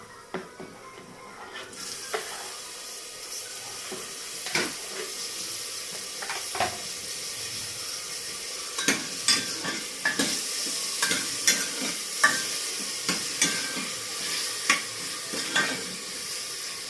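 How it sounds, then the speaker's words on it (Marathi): Chopped tomato fries in a pan for a mixed vegetable dish, a steady sizzle and hiss broken by repeated clacks and scrapes of a spoon stirring, close and clear with no talking. "आता टोमॅटोही चांगला परतून घेऊया"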